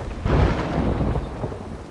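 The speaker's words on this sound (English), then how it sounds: "The hell is that? Thunder?" Rolling thunder in the pirate game Sea of Thieves, a deep rumble that swells quickly and then fades, with rain hiss beneath.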